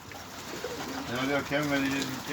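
Pigeons coo repeatedly at close range while the birds are being gathered up, with their low throaty calls layered over soft rustling.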